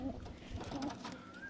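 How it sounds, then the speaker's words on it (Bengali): Pigeons at a loft: soft, close coos, faint and brief, heard alone. "পায়রা দেখুন, পায়রার কোয়ালিটি দেখুন কেমন"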